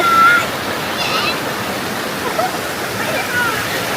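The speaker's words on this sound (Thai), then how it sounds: "น้ำตกอันแรกที่เราได้เหยียบ" Tat Mok waterfall and forest stream in Phetchabun, Thailand, rush in a steady, close, broadband roar of falling and flowing water, with voices faintly present under it.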